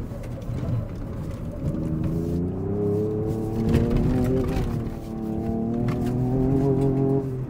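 A Ford Ranger Raptor pickup truck slides off-road, its engine loud and revving with rising and falling pitch under load, with tire noise and scrabbling from the dirt close by.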